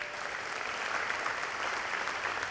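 A crowd at a graduate commencement claps for the sign language interpreters, steady dense applause from a large audience filling the whole moment.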